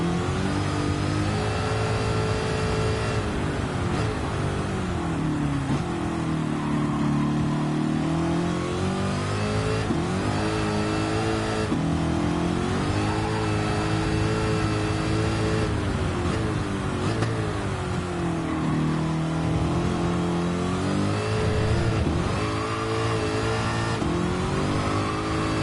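A racing car engine in a video game revs hard and continuously, the pitch rising and falling through repeated acceleration and gear changes, loud and close, with no talking over it.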